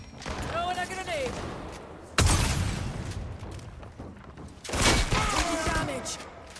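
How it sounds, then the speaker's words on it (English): Grenade explosions in the Highguard video game: two loud booming blasts a few seconds apart with debris-like rumble, with voices talking in between. "Throwing a grenade!"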